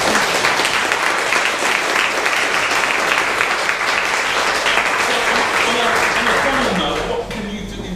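Listeners at a panel discussion on citizenship and migration give a big round of applause. The loud, dense clapping stays full and even for several seconds, then drops off near the end.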